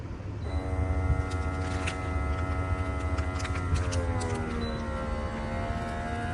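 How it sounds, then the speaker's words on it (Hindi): An Enem vacuum sealer with built-in cutter runs its pump steadily, a continuous motor hum with whining tones that slowly slide lower as air is drawn out of the bag, close and fairly loud throughout. "ये हमारा वैक्यूम हो गया।"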